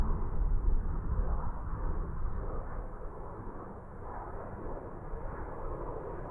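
Ryanair Boeing 737 MAX 8 at Dublin Airport, a steady low jet engine roar that holds loud throughout, fading slightly midway, with no voices.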